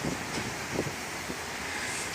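Strong wind whips across a balcony in Batumi, a dense rushing roar buffeting the microphone with brief gusty bursts, steady and loud with no voices.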